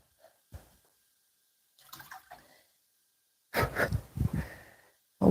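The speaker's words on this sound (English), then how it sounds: "Let's add in some fresh water on this test" Fresh water poured into a container to test a backpacking alcohol stove, a few short splashes and trickles followed by a louder, sustained pour near the end, close up.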